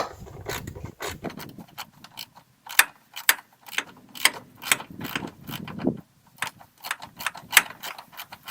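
A ratchet clicks in quick, close bursts with pauses while a bolt is driven into a snowblower mount on a John Deere D125 lawn tractor, a metallic ratcheting heard alone.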